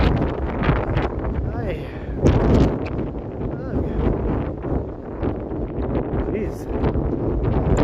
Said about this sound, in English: The wind doesn't know whether it's pushing me or blowing against me.